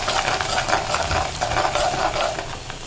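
Chopped garlic and onion fry and sizzle in hot oil with occasional stirring, a steady close crackle running throughout without talk.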